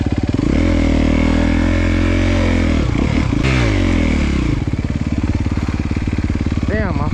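A 2023 Honda CRF250R dirt bike engine runs close and loud, holding a steady rev before dipping and climbing again, then settling into a rough, rapid idle with clattering mechanical noise throughout.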